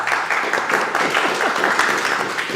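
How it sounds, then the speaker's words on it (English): An audience at a startup talk gives a loud warm-up round of applause, a steady, dense patter of clapping that holds evenly throughout. "can we get a little round of applause to warm up?"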